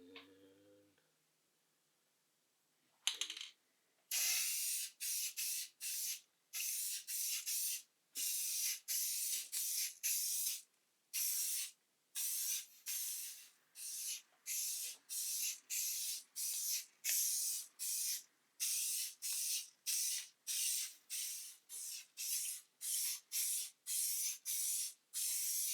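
A spray can lays a coat of pink paint onto a guitar body. After a short quiet start, dozens of close, loud hissing bursts follow one another in a steady, broken rhythm.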